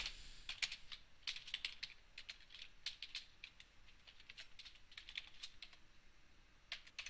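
Rapid, uneven clatter of fingers typing code on a computer keyboard, with close, crisp keystrokes arriving in bursts and short pauses, no voices.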